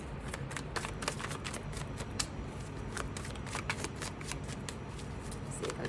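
Zombie Tarot cards are shuffled continuously at close range, a steady riffling and flapping of card stock with soft sharp snaps throughout, no voice heard.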